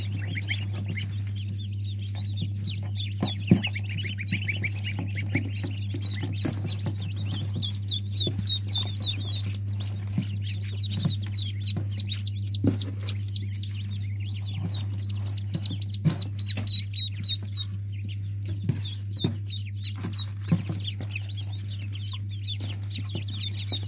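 Newly hatched chicks and ducklings from a small incubator give a steady stream of high thin peeping and cheeping, close by and nearly continuous over a constant low electrical hum.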